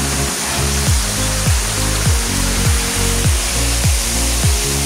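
Dao Falls waterfall in Samboan, Cebu: a steady, loud rush of falling water fills the whole scene, with a rhythmic low swooshing repeating about every half second underneath.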